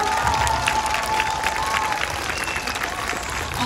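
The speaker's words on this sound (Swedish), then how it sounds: "En stor applåd." A crowd at a dance school's closing show claps together in steady, dense applause for the helpers, loud and continuous with some murmuring underneath.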